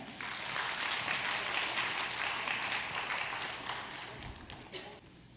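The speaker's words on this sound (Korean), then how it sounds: "박수로 환영해 주실까요?" A church congregation claps to welcome visiting members from the Spencerville church in Washington, dense steady applause that swells, holds for several seconds, then thins and fades out.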